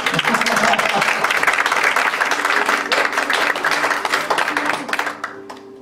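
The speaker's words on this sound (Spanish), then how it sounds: "aplauso" Church congregation at a Sunday service breaking into sustained, loud applause, a dense wash of many hands clapping close by that fades out toward the end.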